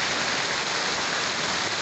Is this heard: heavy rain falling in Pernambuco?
yes